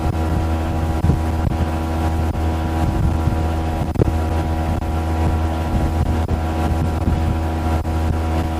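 A 2022 Mercury 60 hp outboard pushes a Starcraft boat at cruising speed, its steady engine drone loud and constant throughout, with wind buffeting the microphone and water rushing beneath the hull.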